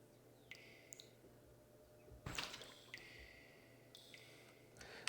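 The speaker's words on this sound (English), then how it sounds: "That slight drip sound you can hear in the background" Slight water dripping in musty ruins in the video game Final Fantasy X, a few faint, sparse drips and squishy clicks over a low ambient hum, with one louder splash-like burst midway.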